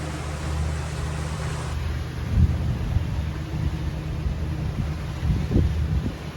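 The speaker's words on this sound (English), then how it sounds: "Thunder out there." Deep rolling thunder rumbles under steady wind and hull noise aboard a boat cruising at about 7 knots near Goodland and Marco Island, Florida, with two heavier swells of rumble standing out.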